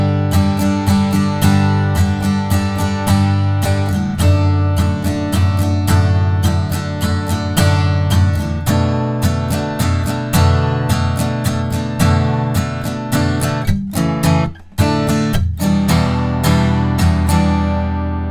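Steady acoustic guitar strumming through a chord progression, rhythmic down-and-up strokes at a lively pace, close and loud, with a brief pause near the end.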